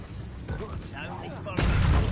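A fire spell blasts in a wizard video game, roaring into a loud, broad whoosh after a stretch of mixed game noise and voices.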